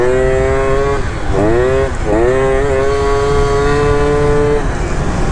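A tuned 70cc Yamaha Zuma scooter engine buzzing loudly up close, its pitch dipping and climbing twice before holding a high, steady whine, under constant road and wind noise.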